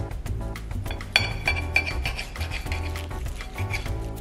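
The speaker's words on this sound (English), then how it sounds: "We're about to cut it open and do a taste test" A knife cuts into a reverse-seared ribeye steak on a plate, with close, repeated clinks and scraping rasps of metal against the dish, rubbing strokes running steadily across the whole stretch without any talking.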